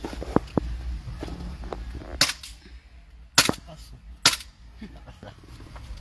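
Sig Sauer P226 airsoft pistol firing outdoors, three sharp loud cracks spaced about a second apart, with faint background voices and small knocks in between.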